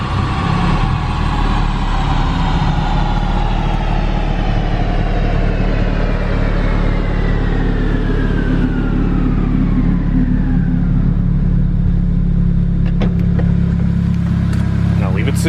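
A turbocharged single-cam Honda Civic EG hatch engine climbs through a long, loud rev with rising harmonics, then winds back down toward idle, close and steady throughout.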